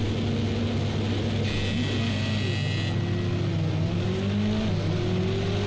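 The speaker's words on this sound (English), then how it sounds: "Love the noise of this car." A Mercedes A-Class engine in a racing game revs and pulls through rising gear changes, the tone climbing and dropping while a brief high whine cuts in.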